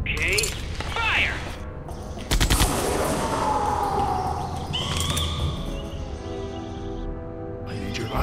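Gunfire from Jurassic Park: The Game, a burst of shots around the middle of a busy game mix with music and effects, plus a horse-like whinny and voices talking nearby.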